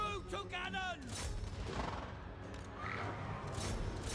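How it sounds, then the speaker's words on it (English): Cannon fire during a Total War: Warhammer 2 battle, with several booming blasts and crackling volleys spread across a dense, noisy battlefield din, while a voice shouts briefly near the start. "Crew to cannons!"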